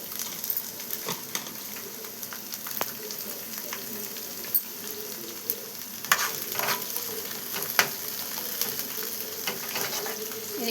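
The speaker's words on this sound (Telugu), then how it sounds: "కొత్తిమీర అంతటిని ఇలా వేపుకోవాలి." Coriander and garlic cloves being stir-fried in a pan: a continuous sizzle with repeated scraping and clinking of a spatula against the metal, louder strokes scattered through the middle and later part.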